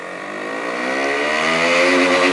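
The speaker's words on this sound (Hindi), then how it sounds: "तो अभी सुना देते हैं आपको KTM 125 का साउंड BS4 का ऑन रोड।" KTM RC 125 BS4 motorcycle exhaust on the road: a steady, buzzing engine note that rises slightly in pitch and loudness as it accelerates, close and continuous with no talking.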